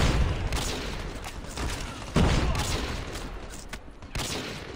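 Sniper rifle shots in COD Mobile ring out as several loud, sharp cracks spaced a second or two apart over dense game noise.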